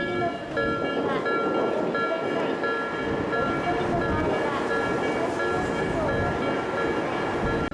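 Train rolling through a busy railway level crossing near a station, a steady loud rumble with rail clatter and ringing crossing bells over wind noise throughout.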